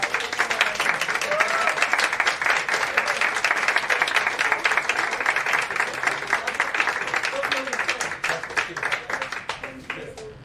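A crowd at a training session claps steadily in a dense, sustained round of applause that runs the full length and thins slightly near the end, with voices faintly audible underneath.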